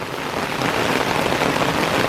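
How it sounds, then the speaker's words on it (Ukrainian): Steady rain falls at a wild pond during flat-feeder crucian carp fishing, a dense, even hiss of drops that stays loud and unbroken. "ну вже десь півгодинки йде дощ"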